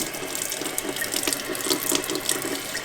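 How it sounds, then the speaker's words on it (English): Water poured from a tap into a freshly shot mallard duck carcass to rinse out blood, a steady close splashing gush lasting a few seconds with no talk. "So we're just gonna kind of pour some water down inside there, kind of pump it a little bit, and see if we can get any blood out."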